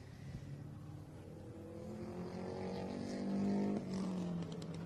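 Subaru rally cars, one older generation and one newer, race on a special stage of the Adelaide Hills Rally, engines rising in pitch as they accelerate and rev hard, heard from a distance with no voices.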